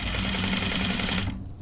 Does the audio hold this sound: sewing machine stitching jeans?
yes